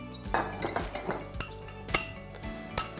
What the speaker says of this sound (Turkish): Soğuk su ekliyorum üzerine. Ve çatalla güzelce karıştırıyorum.